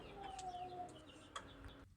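Soft clucks and a few brief chirpy calls from Fayoumi chickens, close by, over a steady low background hum.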